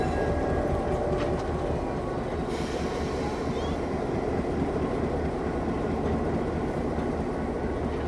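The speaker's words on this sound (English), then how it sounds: "here in just a few moments, we'll pull forward to become the new head of our train" Locomotive 1829 rolling on track at the Tennessee Valley Railroad Museum in Chattanooga, a continuous low rumble of rail and running gear with faint squeals, heard close and steady.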